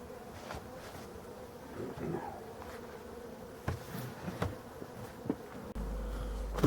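Honeybees at an opened hive of a weak colony on a winter day, giving a faint, low, steady hum with a few soft knocks and handling bumps.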